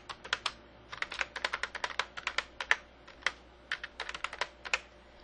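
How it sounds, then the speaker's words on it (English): Rapid keystrokes on a computer keyboard as an email address is typed in, a steady run of close, crisp clicks in short bursts with brief pauses, heard alone without talk. "I'm going to type in his email address here."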